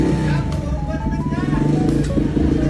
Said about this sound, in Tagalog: So ito nga pala yung tunog ng motor kapag pinaandar guys.